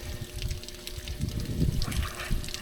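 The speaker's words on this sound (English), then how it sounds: "I'm losing most of my water pressure out of the other side. It's not sealing on the spigot." Garden hose water spraying and leaking from a poorly sealed connection at an outdoor spigot, a faint continuous trickle and splatter with no talking.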